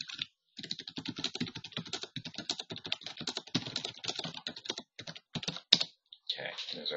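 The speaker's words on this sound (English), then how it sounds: "I'm just going to type some default text here." Keys clatter in a fast, steady stream on a computer keyboard as text is entered into Microsoft Excel 2007, with a few brief pauses between bursts and no talking.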